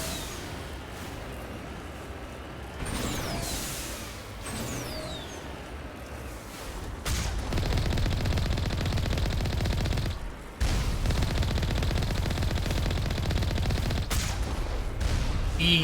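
Rapid gunfire in the video game Mass Effect (Legendary Edition) rattles in sustained bursts, loud and continuous in the second half, with brief pauses and whooshing effects earlier.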